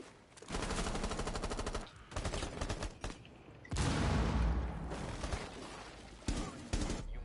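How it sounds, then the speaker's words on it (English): Automatic gunfire from Rainbow Six Siege rips out in loud, rapid bursts separated by short gaps, close and harsh, with heavier blasts among the volleys. "Someone shot me from behind."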